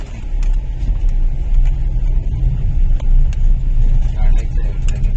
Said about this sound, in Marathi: बघून घे, गाडी गेली.